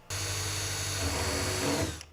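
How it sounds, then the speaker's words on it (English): A power drill with a number 40 bit bores rivet holes through a drill template for nut plates, giving one steady, close, high-pitched whine that runs for about two seconds and then stops, with no talking. "drill the 2 rivet holes using a number 40 drill bit"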